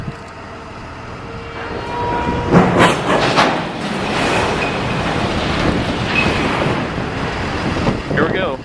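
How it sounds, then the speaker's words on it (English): A train rolls along the tracks with rumbling, rattling and squealing, fairly close and steady, with wind buffeting the microphone throughout. "We are waiting for a train to get off the tracks."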